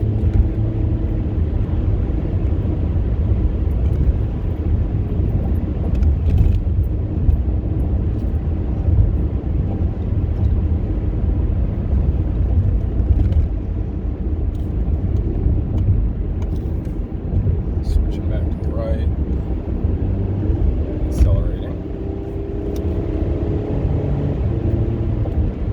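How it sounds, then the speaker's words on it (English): A car accelerates on old US Highway 71 in a steady, loud low engine and road rumble that holds throughout, with faint wind and occasional small knocks and rattles. "But now I'm off the brake, and I'm giving it the gas to get up through."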